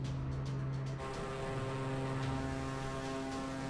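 A propeller airplane drones loud and close in a steady, continuous hum with a constant engine tone and no voices.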